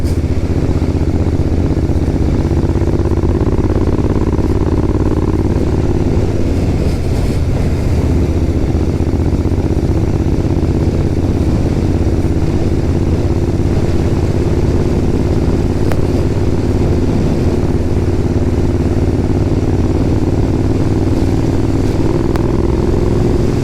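A Jensen Interceptor fitted with precision silencers drones steadily while driving, its engine and exhaust a continuous low rumble with a brief swell of revving partway through, loud and close throughout.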